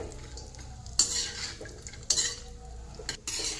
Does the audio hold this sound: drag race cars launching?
no